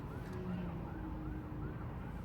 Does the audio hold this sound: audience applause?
no